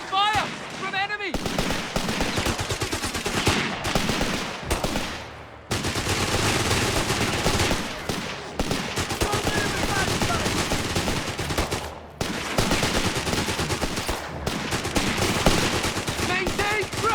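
Dense, sustained gunfire and machine-gun bursts rattle through a Company of Heroes 3 battle played on PS5, a nearly continuous barrage with brief lulls and shouted voices mixed in.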